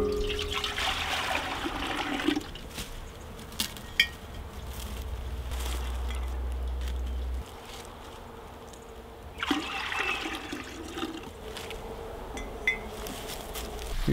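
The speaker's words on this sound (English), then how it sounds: "Now we're gonna go ahead and collect all the maple sap, and I got a big stock pot that I'm gonna put it in." Maple sap from bigleaf maples pours and trickles into a big stock pot outdoors, a steady wet splashing with brief louder bursts, no talk.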